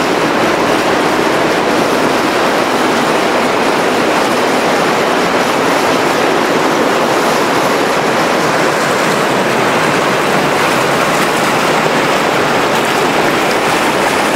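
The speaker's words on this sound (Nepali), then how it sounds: "प्रशोधन केन्द्र हुँदै काठमाडौँको महाङकालमा मेलम्चीको खानेपानी यसरी आइरहेको छ" Melamchi drinking water gushes into a large storage tank at Mahankal, Kathmandu, a loud, unbroken roar of rushing water that holds steady from start to finish with no other sounds.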